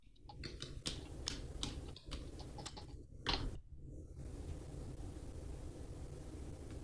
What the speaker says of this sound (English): so who's typing, Jean or Dan?